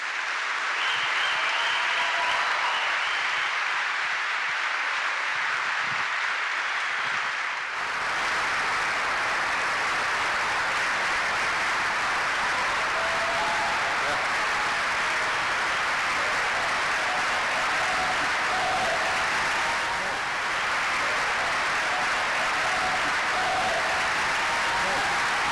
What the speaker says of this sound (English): please just give a big round of applause for Austin Dacey and